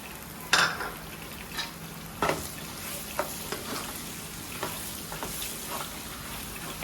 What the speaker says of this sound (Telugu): మొత్తం కలిసేటట్టు తిప్పుకోండి